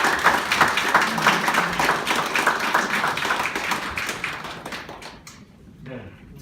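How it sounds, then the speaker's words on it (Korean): Warm audience applause at an indoor gathering, dense clapping that holds for about five seconds and then quickly dies away into near quiet, with faint voices at the end. "우리 뜨거운 박수를 부탁드립니다"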